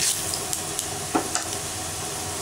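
Fennel seeds, chana dal and urad dal sizzle steadily in hot oil in a pan, with a few light stirring scrapes and clicks over the constant frying hiss.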